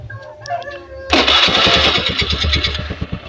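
A Honda Beat carburetor motorcycle, its vacuum carburetor freshly serviced, starts after a moment of nearby talk and settles into a steady, loud, evenly pulsing idle close by.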